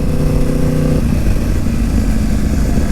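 A Yamaha R1 sport motorcycle engine idles close by, a loud, steady, rumbling drone that holds even throughout with no talk.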